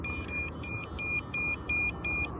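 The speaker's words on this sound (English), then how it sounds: "we're just gonna hit it with the leak detector here" An electronic refrigerant leak detector beeps repeatedly at the flare adapters of a leaking Daikin mini split. The high-pitched tone comes in an even, steady rhythm and sounds close and clear over a low background hum.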